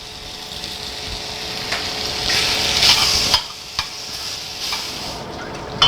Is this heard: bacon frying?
yes